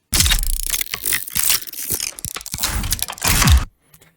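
Dense, busy metallic clicks, crunches and rattles in quick irregular bursts, loud and close, ending abruptly in near silence.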